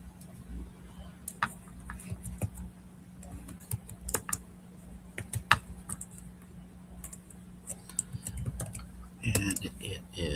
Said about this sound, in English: And I'm typing things in.